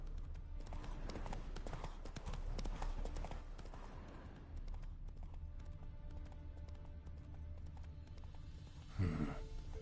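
Roach the horse in The Witcher 3 clip-clops along in a fast, dense hoof rhythm that slows and thins out, then a brief horse snort or whinny rises near the end over game ambience.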